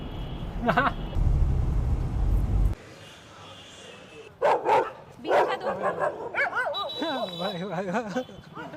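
A street dog in India barks and yips in sharp close bursts, with whimpering and agitated yelps in between, over traffic-like rumble at the start; someone talks briefly over it.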